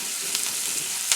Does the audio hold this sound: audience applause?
no